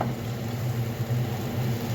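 Vegetables, including carrots, frying in a pan of mixed lard and vegetable oil make a steady, close, even sizzle throughout, with no one talking.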